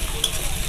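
Chopped chili, ginger and garlic fry in a pan for a curry, a steady close sizzle with light stirring running through the whole short moment.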